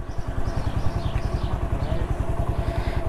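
A motorcycle engine idles at a fuel station on a road trip, its steady low putter running close and continuous with a rhythmic, slightly clattering pulse.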